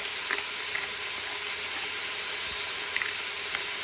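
Six cups of water pour into a big soup pot in a multicooker, a faint, steady hissing trickle with a few soft splashes and clinks.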